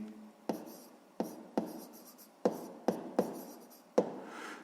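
Pen marks on paper in a notebook during a sixth-grade maths exercise, a series of short scratchy strokes and taps, close and soft, spaced irregularly.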